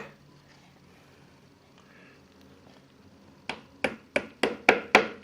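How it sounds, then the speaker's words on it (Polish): A hammer taps metal about seven times in a quickening rhythm, sharp and close, seating a suspension bushing on a GY6 four-stroke scooter, after a few seconds of quiet background noise. "puknąć młotkiem, tak żeby naszła"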